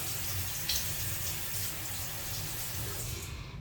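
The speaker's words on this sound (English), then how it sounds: "just give my face a little splash to wake it up" Water splashes at a bathroom sink as someone washes their face during a morning routine, a soft, close, continuous wash of running and splashing water with no talking.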